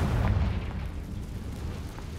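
A Confringo spell explodes in the video game Hogwarts Legacy: a low, rumbling boom that is strongest at the start and then slowly fades, with no voices over it.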